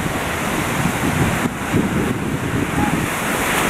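Surf rolls and crashes steadily at a beach in Playa del Carmen, Mexico, on a red flag day, a dense wash of wave noise mixed with gusty wind buffeting the microphone.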